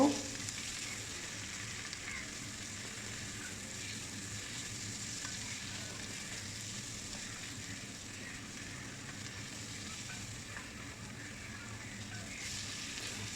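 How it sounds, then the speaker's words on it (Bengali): Shell-on shrimp frying in a pan for a taro-stem dish, a continuous even sizzle with soft stirring scrapes throughout, close and steady with no talking. "চিংড়ি মাছ দিয়ে আমরা নেড়ে নিব"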